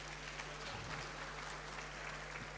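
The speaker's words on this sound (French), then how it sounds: "Je vous remercie du fond du cœur d'applaudir les basiques de la sociologie." An audience applauds during a sociology lecture, a steady, dense patter of clapping heard from a distance and fairly faint throughout.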